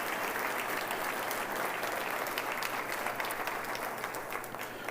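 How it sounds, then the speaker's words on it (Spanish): Sustained applause from a church congregation, steady dense clapping that stays even for the whole stretch, fairly distant and without clear voices. "Más fuerte el aplauso al Señor"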